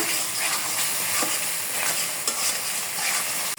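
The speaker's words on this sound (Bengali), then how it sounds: "সব মশলা দেওয়া শেষ আমি ভালোভাবে কষায় নেব" Ground spice paste with bay leaf, salt and garam masala frying in a pan for a snakehead fish dish, a loud continuous close sizzle broken by periodic stirring scrapes, with no talk.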